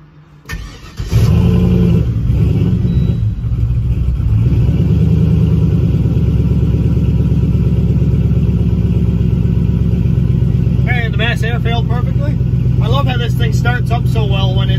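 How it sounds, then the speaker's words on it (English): A Turbo LS-swapped Dodge Caravan starts up and idles loudly nearby, its engine rumbling steadily and rising as it creeps into a garage, with someone talking over it toward the end. "I'm just gonna drive it in the back of the garage"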